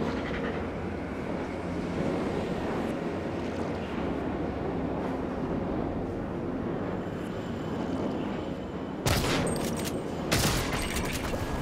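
Gunfire aimed at cystoids in the game Prey, heard as a long dense rumbling wash of shots and noise, with two sharp bright bursts near the end.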